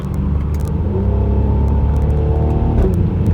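Mercedes-Benz C43 AMG on a driving academy track, a loud close engine drone heard from inside the car, steady and rumbling as the throttle comes back on, with faint tyre and wind noise.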